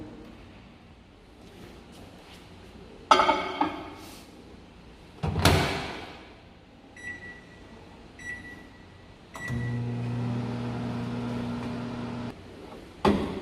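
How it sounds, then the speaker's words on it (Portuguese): A microwave oven hums steadily after a few clicks, door bumps and short beeps, the low drone running for several seconds before stopping. "A gente vai lá no micro-ondas agora, gente."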